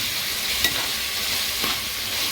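Food fries in a pan with a loud, steady sizzle that fills the whole stretch, broken only by a couple of faint clinks. No voices.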